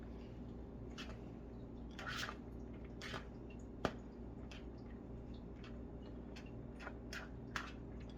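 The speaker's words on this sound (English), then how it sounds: "I'm going to give this a good mix. Make sure I get all these ingredients mixed together" Meat and rice filling for holubtsi being mixed by hand, giving soft wet squishing and occasional sticky drips in irregular bursts, close and fairly quiet over a steady low background hum.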